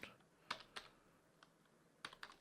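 Keystrokes on a slightly unusual computer keyboard come in sparse little clusters of crisp clicks, pausing in between before a quicker run at the end. No talking.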